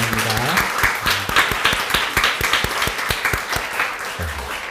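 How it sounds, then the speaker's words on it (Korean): A church congregation claps to welcome a new member, a dense, steady patter of many hands filling the room, with a low voice briefly heard beneath it at the start and end. "우리 뜨거운 박수로 환영하겠습니다."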